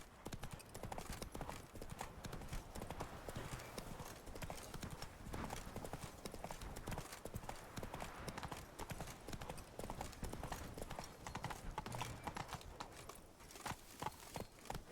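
In The Witcher 3: Blood and Wine, a horse gallops with fast, continuous clip-clop hoofbeats at close range, in a steady drumming rhythm throughout, with a faint voice now and then in the background.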